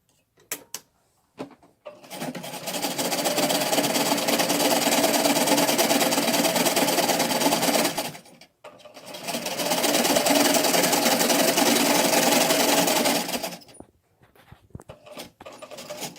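A sewing machine stitches the bottom edge seam of a cotton mask in two long steady runs, each several seconds of continuous whirring, separated by a brief pause, with quiet handling noises before and after.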